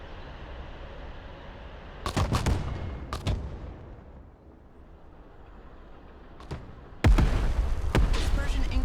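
Mortars fire in the war game Broken Arrow, with a few sharp thudding launches and cracks over steady battlefield rumble, ending in a louder blast with a sustained roar.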